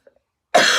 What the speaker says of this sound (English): I'm going to have a coughing fit.